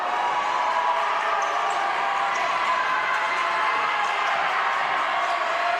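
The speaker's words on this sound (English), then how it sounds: "And listen to the crowd." A crowd at a women's college basketball game makes a steady, loud wash of cheering and hubbub that fills the whole stretch without pause, with an announcer's voice faintly mixed in.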